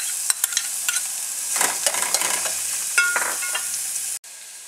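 Onions fry in hot oil for potato bonda, giving a loud, continuous close-up sizzle with stirring scrapes and crackles, then an abrupt cutoff near the end.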